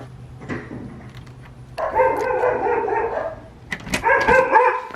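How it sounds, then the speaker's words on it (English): A dog barks nearby in two loud bursts of repeated barking, with quieter yips and whimpers between them. "be ready for dog barks"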